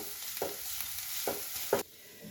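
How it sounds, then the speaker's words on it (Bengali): Chopped onions frying in a pan give a steady, fairly quiet sizzle, with three short scraping stirs spaced about a second apart before the sound drops away near the end. "পেঁয়াজের কুচিগুলো পেঁয়াজটা নরম করে ভেজে নেব"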